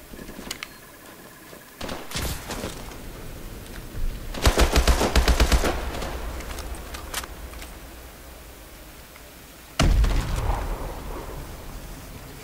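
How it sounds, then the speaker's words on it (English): Explosions and heavy gunfire in a Call of Duty: Advanced Warfare combat mission, with loud blasts around 2, 4.5–5.5 and 10 seconds over a constant rumble of battle noise. "That was an explosion I wasn't ready for."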